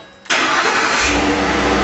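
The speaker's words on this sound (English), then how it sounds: "Alright, after changing the oil, you want to start the engine." A truck engine cranks and fires after an oil change, catching abruptly and settling into a loud, steady idle close by, with no voices.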